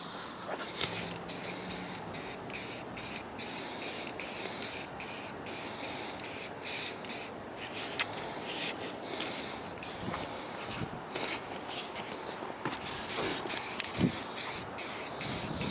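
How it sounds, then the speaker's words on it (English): Rapid bursts of aerosol spray paint hiss in a steady rhythm of short blasts onto a carbon fiber hood of a G35 sedan, close by, with a quieter stretch in the middle before spraying resumes. "this shit's spraying like a bitch"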